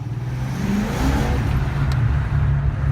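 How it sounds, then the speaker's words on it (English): A car engine revs while driving, a close, steady low drone that swells slightly toward the middle, alone without talking. "it helps to move the car and rev the car a lot while I'm driving it. So you'll hear me revving every once in a while."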